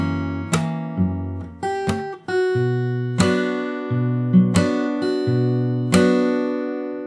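Plucked fingerstyle guitar plays the next section of a jazz standard: a steady run of ringing chords and single notes at a moderate pace, close and alone without speech.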